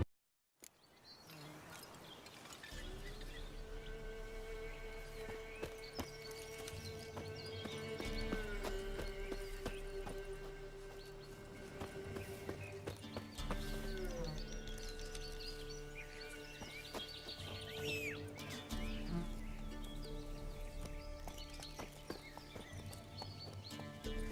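A horse in The Witcher gallops with steady rhythmic hoofbeats that run continuously for most of the stretch, under game music, with a whinny near the start.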